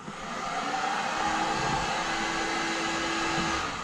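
A heat gun blows hot air across a car windscreen, a steady whooshing roar that swells in and holds for a few seconds before easing off, with no speech over it.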